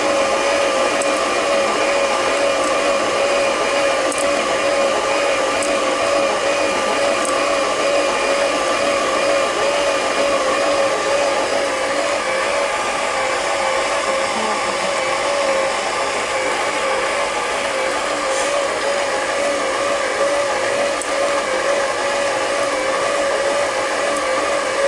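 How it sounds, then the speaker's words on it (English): An electric stand mixer kneads soft pretzel dough at medium speed, giving a steady, loud motor whir with a constant drone that runs unbroken for the whole stretch, with no talking. "Then change the mixer to medium speed and knead until the dough is smooth and falls away from the bowl"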